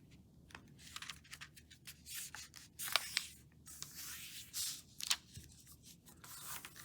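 Paper being folded and creased for origami, close-up rubbing and scraping strokes of fingers pressing folds flat, in repeated irregular bursts with a few sharper crinkles.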